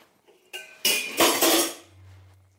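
A metal lid clanks and scrapes onto a cooking pot of paneer korma after the gas is switched off, with a couple of loud clattering hits followed by a low lingering hum.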